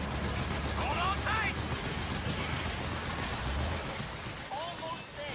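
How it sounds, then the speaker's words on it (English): Metal Gear Solid 4 gunfire aimed at Gekkos keeps up as steady, sustained shooting under loud battle noise, with a few chirping creature-like calls and someone talking over it. "just shooting the geckos that are in your way"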